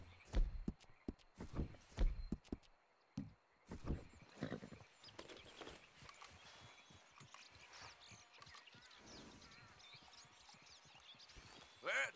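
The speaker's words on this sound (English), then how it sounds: "I just want to ride the horse like this." A horse's hooves clop while being ridden in the video game Red Dead Redemption 2, with a few loud, close hoof strikes early on, then quieter, uneven footfalls, an occasional whinny and faint ambient game sounds.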